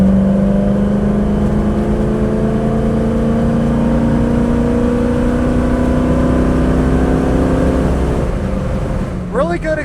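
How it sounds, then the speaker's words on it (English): A 1970 Ford Mustang with a 302 V8 and automatic transmission drones steadily while driving, its exhaust note holding a low rising tone before easing off near the end, with a voice briefly audible at the end. "Really good exhaust note, has a good muscle car sound."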